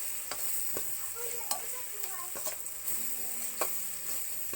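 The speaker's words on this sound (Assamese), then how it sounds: "এইখিনি এতিয়া ভালদৰে ভাজি ল'ম আমি।" Masala frying in a pan for Assamese kosu bao curry, a steady close sizzle broken by several sharp scrapes and knocks of a stirring spoon.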